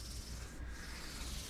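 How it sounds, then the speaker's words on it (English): Fine 1200-grit sandpaper gives a short, steady, soft rubbing scratch as it works over a Harley Benton guitar being serviced. "low grit sandpaper"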